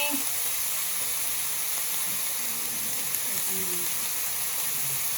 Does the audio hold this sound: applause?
no